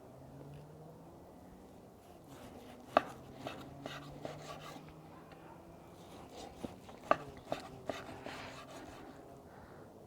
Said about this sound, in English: now we'll do some slicing here